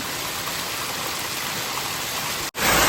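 Antharaganga waterfall near Hyderabad pours down a hillside in a steady, close, full-bodied rush of falling water, with a brief dropout near the end before the roar resumes louder.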